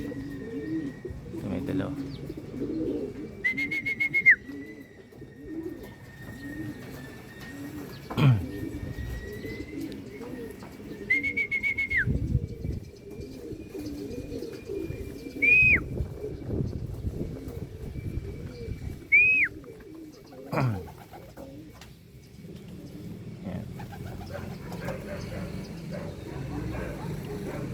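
Racing pigeons cooing and calling during a five-lap fun race, with soft repeated coos and a few higher chirps scattered through steady background noise while someone talks over them.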